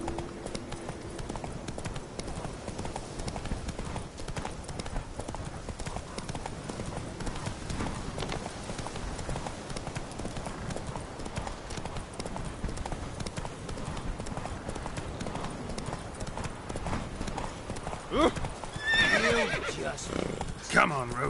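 Roach, the horse in The Witcher 3, gallops in quick continuous hoofbeats, loud and close, with a whinny near the end and a voice talking over game sounds.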